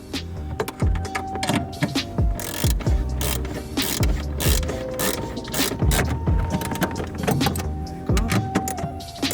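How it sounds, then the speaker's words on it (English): Ratchet wrench tightening the tail light fasteners on a 1996-2000 Honda Civic hatchback, repeated rapid clicking bursts up close with loud mechanical ratcheting throughout and no talk. "we're just gonna give it a little tighten with the ratchet to make sure it's nice and tight and secure"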